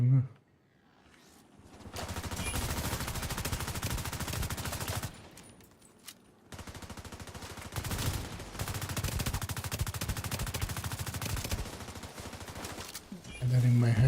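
Sustained rapid gunfire from a video game shooter, dense bursts filling most of the stretch with a brief lull midway, loud and close, with a voice talking at the start and end.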